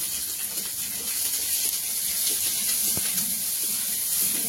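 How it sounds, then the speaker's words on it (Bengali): Sliced onion and green chilli frying in hot oil make a steady, close hiss and crackle that runs unbroken throughout, with faint kitchen clatter beneath. "তেলে পেঁয়াজ দিয়ে দিয়েছি, একটু কাঁচা লঙ্কা দিয়ে দেবো।"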